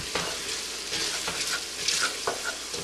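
Onions and garlic sizzle and fry steadily in a pot for cream of potato soup with bacon, a continuous close crackle with occasional stirring scrapes and no talk.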